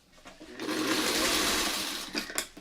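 A sewing machine stitches pieces of a snowball nine-patch quilt block in one continuous whirring run that swells and then fades, followed by a few short clicks and taps.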